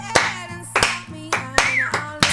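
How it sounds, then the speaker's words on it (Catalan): Discreet applause at a stage show: a few sparse, separate claps spaced irregularly, with a held sung or hummed tone in the pauses between them. "Aplaudiments discrets"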